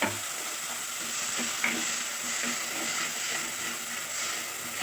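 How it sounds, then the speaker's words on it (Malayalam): Sardine masala sizzling steadily in a pan as ground tomato is stirred in, a continuous close frying hiss with soft scraping strokes throughout. "തക്കാളി കൂടെ ഒഴിച്ചു കൊടുത്ത് നന്നായിട്ട് ഇളക്കി കൊടുക്കണം."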